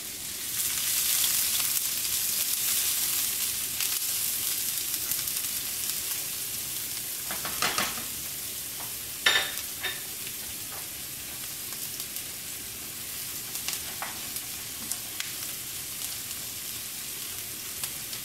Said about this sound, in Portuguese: Vou colocar azeite. O alho e a cebola para dar uma boa refogada.